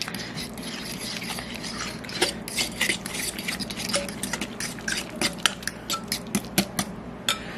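Eggs for a pumpkin pie being beaten in a bowl, a utensil clinking and scraping against the sides in quick, uneven strokes that grow more rhythmic toward the end, close and moderately loud.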